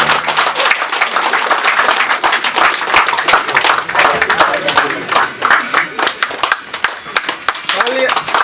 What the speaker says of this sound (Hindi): जोर से तालियां बजाइए।